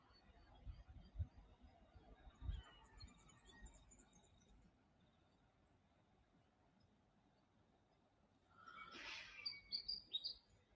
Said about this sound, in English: Hearing some interesting little bird calls.